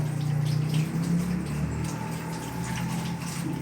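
A tap runs steadily during handwashing, with the continuous splash and gush of water going throughout and only small changes in the flow.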